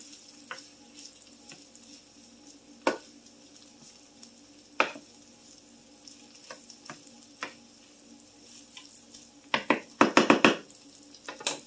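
Vegetables frying for a Dollar Tree fried rice dish, a steady low sizzle with scattered stirring knocks and a louder burst of scraping and sizzling near the end, with no talking.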